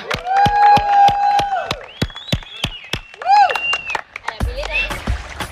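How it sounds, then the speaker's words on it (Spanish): Studio audience on a Spanish-language celebrity reality show clapping in a sharp, evenly spaced rhythm, about a dozen crisp claps over sung and spoken voices and music. "¡Aplauso!"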